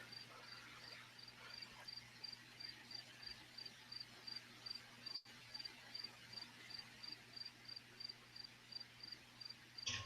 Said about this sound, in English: Like, are you sitting next to your window with crickets outside?